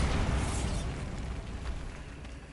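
A Bombarda spell blast in Hogwarts Legacy bursts out as a broad, noisy explosion, with a sustained crackling roar and rumble that slowly fades over a couple of seconds, heard alone.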